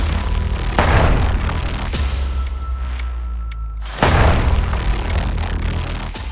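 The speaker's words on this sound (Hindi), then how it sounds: "इसकी वजह से लेबनान में धमाके होने लगे" Heavy booming blasts from exploding pagers in Lebanon strike a few seconds apart, each a loud burst with a rumbling tail, the second one about three seconds after the first.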